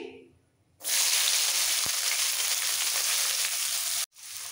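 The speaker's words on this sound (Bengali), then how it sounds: "এবার দিয়ে দেবো পেঁয়াজ কুচি।" A large chopped onion drops into hot oil already fragrant with spices for Odisha-style dahi bada, bursting into a loud, steady sizzle that holds for about three seconds before cutting off abruptly.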